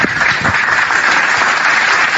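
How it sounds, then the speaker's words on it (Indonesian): A church congregation applauds during an Indonesian sermon, a dense steady wash of many hands clapping at once, loud and sustained throughout with no voices on top. "Tepuk tangan dulu."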